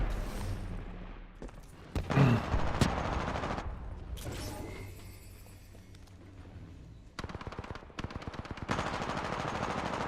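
Gunfire in the PS4 shooter Titanfall 2: rapid automatic bursts and heavy single shots, loud and close, broken by brief pauses, a booming blast and a final sustained volley.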